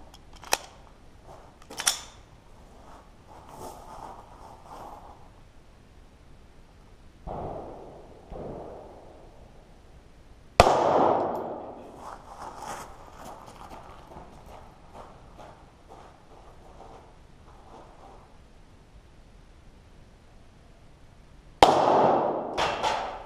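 Pistol shots ring off metal targets, one at a time: a few sharp, widely spaced reports, the loudest two with a brief metallic ring, and quieter handling noise in between.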